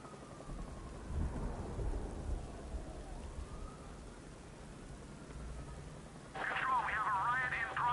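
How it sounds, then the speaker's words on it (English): Rain and thunder in the video game Arkham Knight: a faint, steady wash of rainfall with low rumbles swelling around the start, then a voice speaks over the storm near the end. "What's with all the rain?"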